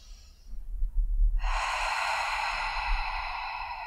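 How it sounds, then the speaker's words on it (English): A deep breath during a yoga pranayama practice: a soft nasal inhale, then a long, steady, breathy exhale through the mouth, close and quiet with no speech. "Taking a big breath in through the nose and breathing out through the mouth."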